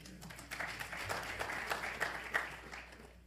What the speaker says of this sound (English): Y'all can applaud that as well.